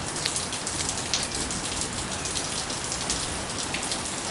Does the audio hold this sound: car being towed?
no